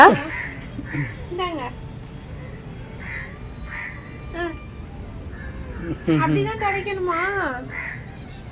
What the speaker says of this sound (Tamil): குருவி கூப்பிடுது